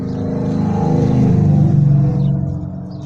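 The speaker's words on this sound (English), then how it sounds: "excuse the road noise" Road traffic, with a car passing outdoors, makes a loud, close rumbling swell that builds and fades over a few seconds, with no talking.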